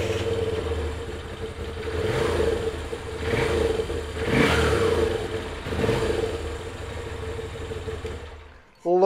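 A 2017 Moto Guzzi V7 Special ABS motorcycle with a shaft drive rumbles at idle and then revs up in several rising and falling sweeps, loud and close, before cutting off abruptly at the end.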